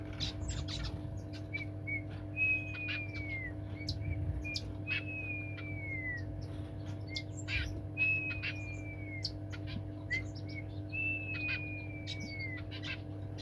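Grass finches in an aviary giving repeated thin whistled calls, each a high drawn-out note falling slightly at the end, spaced a few seconds apart, faint over a steady low hum with occasional soft clicks.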